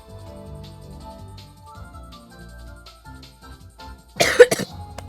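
A single short burst of coughing, close and fairly loud, following several seconds of quiet music-like tones in the background.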